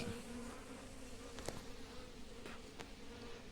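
Honey bees buzz and drone around faintly during a hive transfer, with a few brief clicks and taps over the low hum of flight.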